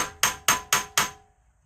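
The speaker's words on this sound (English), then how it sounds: "Let's go ahead and knock this bolt out of here." A hammer drives a rusted, frozen bolt out of an original tractor clutch mechanism, landing four sharp metallic blows in an even rhythm, each one ringing briefly and fading before the next, close and alone.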